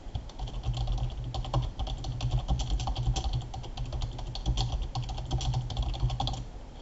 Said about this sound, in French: Je tape un suivi à destination du demandeur.